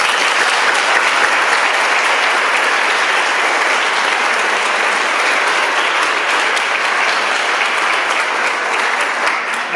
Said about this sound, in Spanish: Yo creo que eso se merece un fuerte aplauso.